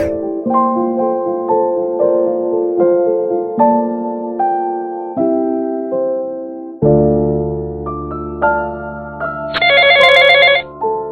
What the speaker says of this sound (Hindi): मॉम, जंगकुक, ते और शुगा, इन दोनों में से कोई फोन नहीं उठा रहा है।